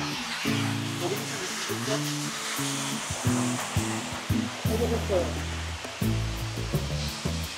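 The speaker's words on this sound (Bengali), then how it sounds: "ঝর্ণার পানিটা পড়ে আসছে।" Water from a waterfall dropping from a great height in the hills of Rangamati, a steady broad rushing roar throughout, with a voice and tonal music-like sounds layered over it.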